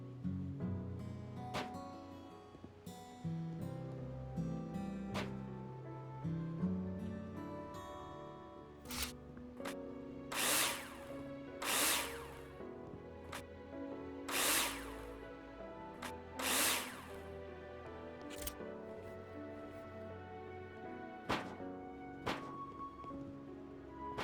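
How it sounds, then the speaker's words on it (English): A drill driving screws to fix metal profiles in the video game Builder Simulator, several short bursts of whirring in a row over quiet background tones, each lasting about a second. "Now place them in the hologram and screw them in with a drill."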